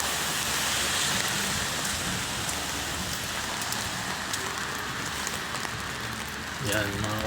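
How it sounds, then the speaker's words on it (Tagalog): Steady rain falls on a city street in Birkirkara, Malta, at dawn, a dense continuous hiss of drops on pavement with water flowing in flooded gutters, while a person talks intermittently over it. "basa tayo sa ulan"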